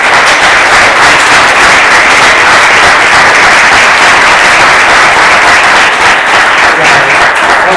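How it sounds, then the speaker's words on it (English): A talk audience gives a loud, sustained round of applause, dense clapping filling the whole stretch at a steady level with no voices standing out. "if you could join me in a round of applause for Matt"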